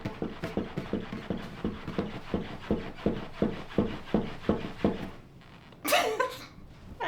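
A dog pants in quick, regular rhythmic breaths close by, then breaks off into a brief whimpering whine.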